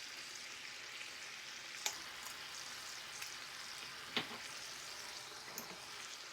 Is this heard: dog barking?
no